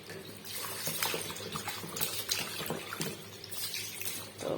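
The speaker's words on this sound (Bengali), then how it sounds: "এখন আমি বিরিয়ানির জন্য মাংসগুলো ধুয়ে নেবো সুন্দর করে" Tap water runs steadily into a sink as raw meat is rinsed for biryani, with irregular splashing and handling noises close by throughout.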